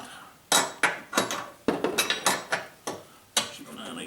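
A wrench ratchets in short strokes while tightening a nut on the front suspension of a BMW 323i E36, with about ten metallic clicks and clanks in an uneven rhythm, close and fairly loud.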